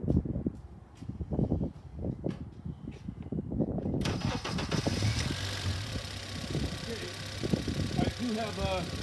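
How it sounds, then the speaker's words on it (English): A car with coil-on-plug ignition cranks and fires up, the starter's rough bursts giving way to a steady running engine that stays loud and close, with some talking over it. "we will start the car"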